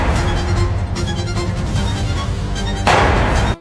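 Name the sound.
two gunshots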